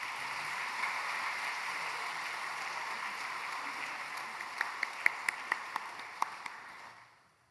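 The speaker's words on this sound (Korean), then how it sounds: "박수 보내주십시오." Applause from a church congregation during a house-church leader appointment service, a steady wash of many hands clapping throughout, with a few sharper individual claps near the end before it fades out.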